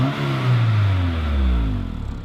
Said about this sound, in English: The engine's quiet, but it makes a decent sound.